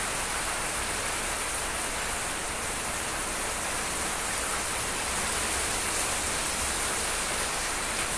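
Heavy rain falling on an afternoon, a dense, unbroken roar of hiss that stays loud and even throughout, with no voices.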